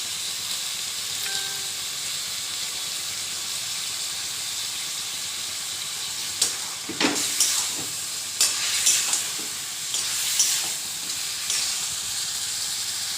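Spiced meat curry stir-frying in a pan with lemon juice and meat masala, a steady close sizzle that gains scraping stirring strokes partway through.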